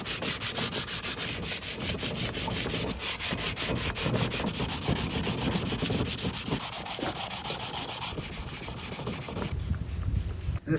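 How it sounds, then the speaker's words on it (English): A flywheel is hand-sanded with 320 grit sandpaper: a loud, close, continuous rasp of quick rhythmic back-and-forth strokes, with no speech. "if I give this a sand with some 320, it should be good"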